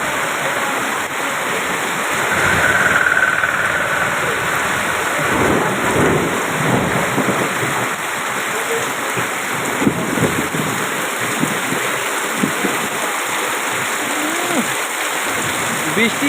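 A torrential downpour roars steadily and loudly close by, mixed with deep rumbles of thunder and a rushing, stream-like flow of water.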